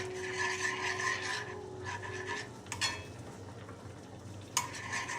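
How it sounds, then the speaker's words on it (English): Metal measuring spoon scraping and rasping mustard off, a quiet series of gritty scrapes with a few sharper clinks, close up with no talking. "Want to get that mustard out of that spoon like that."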